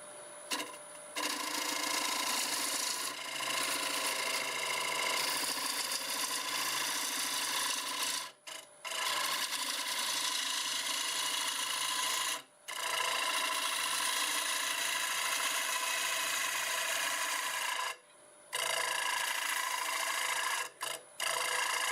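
A piece of oak spins on a wood lathe while a tool cuts it, giving a steady, continuous rasping hiss with a few brief breaks as the cut pauses, close and fairly even in level.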